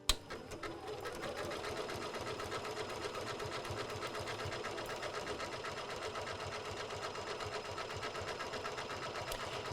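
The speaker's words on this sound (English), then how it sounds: "So we're just going to press the start button and begin sewing." A sewing machine stitches decorative stitches into fabric, running at a steady, fast, even mechanical chatter after a brief start-up click, close and continuous for the whole stretch with no talking.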